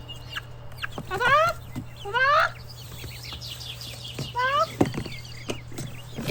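Black chickens clucking close by on a Canadian country property, several short rhythmic bursts of clucks with pauses between them and no talking.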